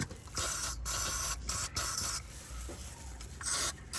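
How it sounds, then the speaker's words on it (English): WD-40 rust penetrant sprayed onto rusty front brake parts of a Toyota Auris hybrid, a steady close hissing spray in a few short bursts with brief gaps. "I'm going to put some rust penetrator WD-40 so they can open easily"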